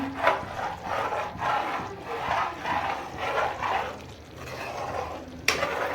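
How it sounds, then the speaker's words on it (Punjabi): Okra tempered in hot oil and desi ghee makes a soft, rhythmic stirring and rubbing with a faint sizzle, repeating in gentle waves, followed by a sharp clack near the end. "ਇੱਧਰ ਆਪਣਾ ਤੇਲ ਵੀ ਗਰਮ ਹੋ ਗਿਆ ਹੈ ਤੇ ਲਾਈਏ ਜੀ ਤੜਕੇ ਛੜ ਕੇ ਭਿੰਡੀ ਨੂੰ"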